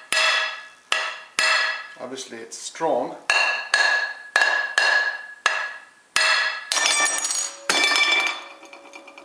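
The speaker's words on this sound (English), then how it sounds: "I'm going to take a hammer in a moment and break it." A hammer strikes a glued ceramic pottery piece in a run of about a dozen sharp, close, ringing clinks at an uneven pace, with a voice briefly heard between the blows.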